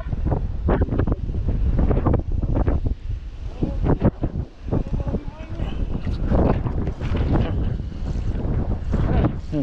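A strong south wind of around 15 knots buffets the microphone at sea during kayak fishing. Loud, gusty roaring comes in irregular bursts over the splash of water, and someone talks through it.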